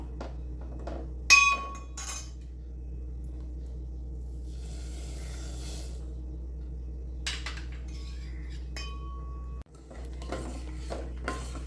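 A metal spoon clinks against a pan or cup of hot milk as sugar is stirred in to dissolve, a few sharp chinks standing out over a low steady hum, with no one talking.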